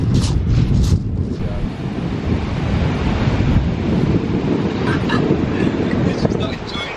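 Choppy sea waves breaking on the Brighton seafront on a cold, windy day, with a continuous rushing surf roar and heavy wind buffeting on the microphone, plus brief voices near the start.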